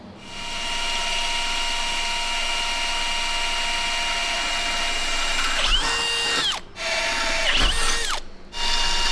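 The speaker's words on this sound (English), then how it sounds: "Now we drill some holes" A power drill whirs steadily for several seconds, then grinds and stutters in a few short bursts as it bites into metal, with brief pauses between.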